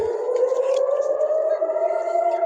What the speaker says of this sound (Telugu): సైరన్ అయితే మళ్ళీ మోగింది